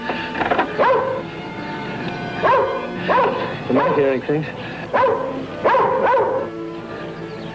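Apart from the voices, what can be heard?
hunting dog barking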